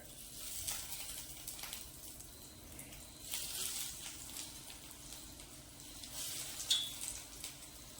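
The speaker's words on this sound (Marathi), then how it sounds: "हे गरम झाले, आपण डीप फ्रायला ठेवूयात" Vegetable cutlets deep frying in hot oil give off a soft, steady sizzle with small crackling bursts, faint and continuous, with no speech.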